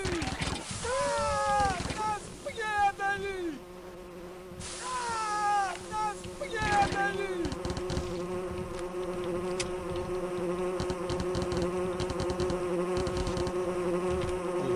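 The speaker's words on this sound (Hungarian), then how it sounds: "Bajlódok ezzel a három szúnyoggal" Several mosquito-like insects buzz in a video game, their whining drones rising and falling continuously over steady game noise, with a voice speaking over part of it.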